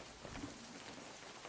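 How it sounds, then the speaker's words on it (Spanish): Rain pours in the zombie survival video game Unturned, a steady, dense hiss of falling water that is faint and distant and carries on without a break. "en este juego, mira, se pone a llover"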